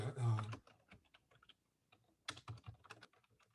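Keys clatter on a computer keyboard in short, irregular bursts of typing with pauses between, close and fairly quiet, after a brief voice at the start.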